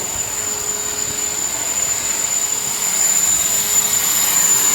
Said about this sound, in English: hooked up a vacuum in reverse to the exhaust.